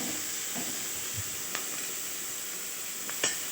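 Capsicum fries in a pan until golden brown, giving a quiet steady sizzle with a few soft stirring taps and scrapes, close and without talk.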